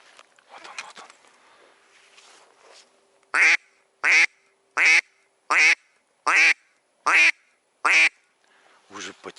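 A duck call blown outdoors to lure crows gives a series of seven loud, evenly spaced quacking blasts, each about half a second long, after some quiet murmured talk and rustling.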